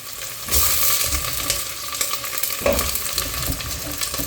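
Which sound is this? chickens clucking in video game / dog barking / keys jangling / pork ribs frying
pork ribs frying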